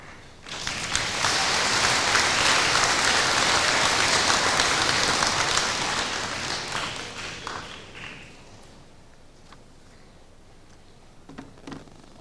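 A middle school Veterans Day assembly in Spearfish bursts into loud, sustained applause for the principal coming to the podium, holding steady for several seconds before fading to scattered claps and quiet.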